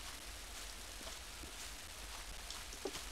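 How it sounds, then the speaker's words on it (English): Steady rain falls in the Little Big Adventure 2 (Twinsen's Odyssey) video game, a faint continuous hiss with scattered soft drop ticks throughout and no voices. "Far as I'm concerned, I like it when it rains."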